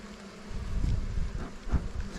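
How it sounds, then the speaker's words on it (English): Honeybees buzz as a dull, low hum during an early spring hive inspection, a steady swarm drone with wind noise rushing across the microphone. "It's critical that we get these bees smoked down really well."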